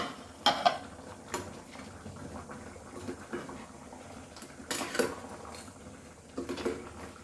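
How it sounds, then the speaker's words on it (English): Goan crab and mango xacuti being stirred in a pan, with scattered scraping and clinking of the utensil against the metal, a few louder bursts among quieter gentle mixing and low simmering, no voices. "Mix all this nicely."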